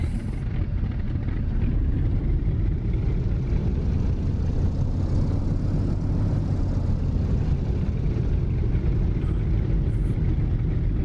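Fw-190 fighter plane taking off in a flight combat video game, with a steady, loud engine roar and low rumble that holds throughout without any talk.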